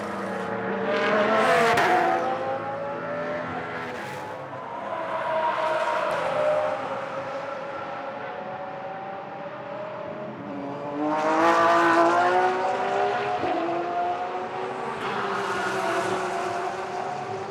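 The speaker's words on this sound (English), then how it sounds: "So the Porsche comes across the line once again." Porsche race cars roar past on a circuit's back straight during GT sprint free practice in Moscow, engines swelling loud then fading into the distance in two separate passes.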